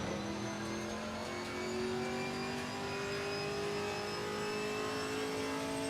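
GT4 race car in Assetto Corsa Competizione, engine revving through downshifts with a steady, rising mid-pitched drone and faint harmonics, heard alone at moderate level.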